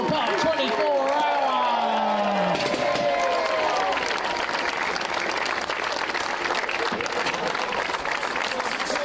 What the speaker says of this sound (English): one more big cheer for your podium